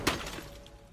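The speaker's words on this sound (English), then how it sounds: "The bearded man heard glass break" Short crash of breaking glass used as a sound effect in a horror story, one sharp smash at the start followed by a fading tail, alone with no talk.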